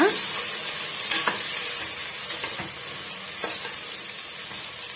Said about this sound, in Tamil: சேர்த்துட்டு நல்லா வந்து வதக்கி விட்டுடலாங்க ஹை ஃப்ளேம்லேயே வச்சுக்கோங்க